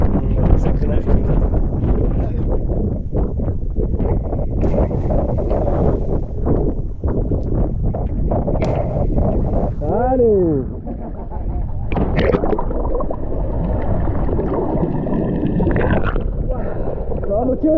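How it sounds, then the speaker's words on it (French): Strong wind buffets the microphone at sea beside a rock in open water, a loud continuous roar with water sloshing and splashing, while people talk over it throughout. "il y a un vent de ouf"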